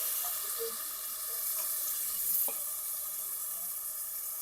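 Carrots with ground paste fry in a pan, giving a dense, continuous hiss and sizzle with an occasional clunk of stirring partway through. Up close, with no voices.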